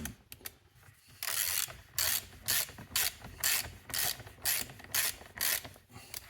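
Close mechanical ratcheting on an old Stihl chainsaw as the bar nuts are nipped up lightly, repeated bursts of clicking in a steady rhythm with short pauses between strokes.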